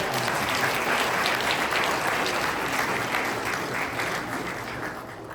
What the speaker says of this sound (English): So, a quick shout out and round of applause to Yoshua Wasserman, Yoel Thrashim, and Yona